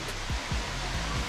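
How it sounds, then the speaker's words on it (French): A small waterfall on a mountain trail near the Balcon de la Rouane, giving a steady broadband rush of falling water, close and continuous, with low rumbling and a few brief low thumps. "Voilà la petite cascade."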